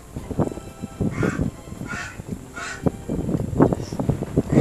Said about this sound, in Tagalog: Yung mga huni dito, ito lang mga naririnig mo